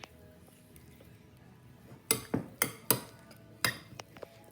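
A utensil knocks against a bowl while barbecue sauce is mixed into food, several sharp clinks and scrapes in a short irregular burst after a quiet start, with nobody talking.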